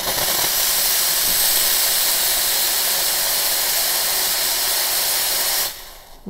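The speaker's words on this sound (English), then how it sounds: "Really powerful with that competition grade 4-hole steam tip." The steam wand of a Rocket Appartamento espresso machine, fitted with a competition-grade four-hole steam tip, gives a loud, steady, close hiss for about six seconds before it cuts off abruptly.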